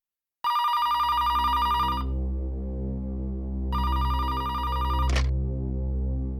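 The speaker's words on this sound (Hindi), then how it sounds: "फोन उठाना है प्लीज।" A telephone rings in a CID bureau office, starting abruptly with two bright ringing bursts over a steady electronic tone, loud and close with no one talking.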